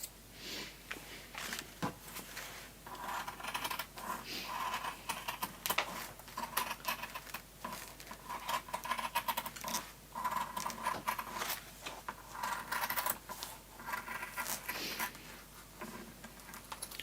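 Scissors snipping through boiled wool backed with a paper layer, a steady run of small close crisp cuts continuing without pause, quiet and alone.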